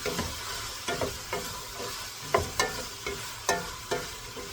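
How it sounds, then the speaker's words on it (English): A spoon stirs carrot pieces through a pot of pasta soup, sliding and clinking in a steady rhythm of soft scrapes and taps, close and alone with no talk. "Give it a little stir."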